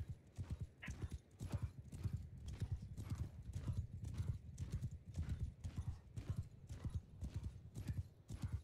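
Horses galloping in the medieval combat game Bannerlord, with steady rapid hoofbeats pounding close and loud throughout, an occasional whinny rising over the clatter and faint voices underneath.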